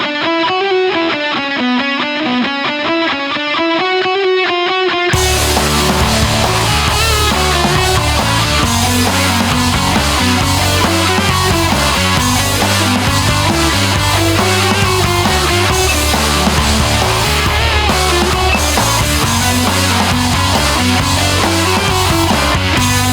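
Overdriven electric guitar playing a busy, straight-eighth riff. A thin filtered lead-in opens it, then a loud full band with distorted guitar and drums takes over and keeps going to the end, with no talking.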